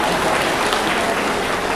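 Loud, dense applause from a crowd at an ashram gathering, welcoming Ganpatdasji Maharaj, sustained and even throughout with no voices above it.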